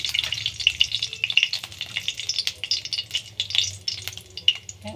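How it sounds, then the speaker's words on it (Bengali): Cumin seeds and bay leaf crackle and sizzle in hot oil on a gas stove, a bright busy spatter with light utensil rattles throughout, close and alone. "এবার জিরে ফোড়ন দিলাম, তেজপাতা ফোড়ন দিলাম"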